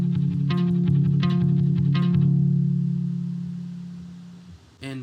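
Palm-muted electric guitar run through a Way Huge Pork Loin overdrive pedal, a few chugging chords with the last one left ringing and fading, then a brief fresh strike at the end, played alone.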